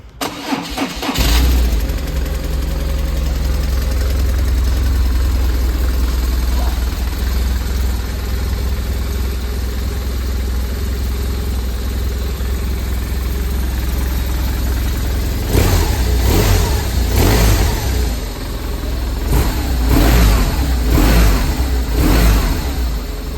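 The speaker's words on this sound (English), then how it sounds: "Really nice smooth sounding engine." A 2008 BMW R1200R motorcycle engine cranks and fires up, settles into a steady idle, then is revved several times in short bursts, loud and close.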